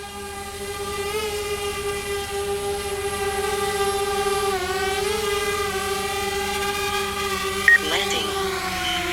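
DJI Spark drone descending to land, a steady high whine of small propellers with gently shifting pitch, close and continuous, with a brief tonal blip near the end.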